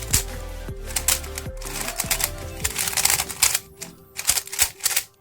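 Magnetic CACUSN 3x3 speedcube turned rapidly during a solve, dense clusters of clicking and clacking layer moves in quick bursts with brief pauses, close and crisp, over a faint background tone.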